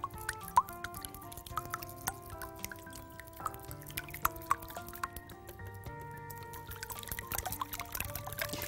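Honey pours into apple cake batter in a home kitchen, a faint sticky trickle with soft drips and plops, quiet and close, over a low background hum.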